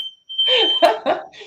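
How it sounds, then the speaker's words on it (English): A household smoke alarm beeps with a steady high tone at the start, then falls silent while a person speaks over the remaining moments. "that's my fire alarm"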